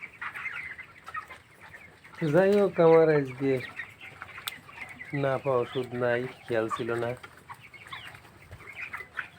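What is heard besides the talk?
17-day-old broiler chickens clucking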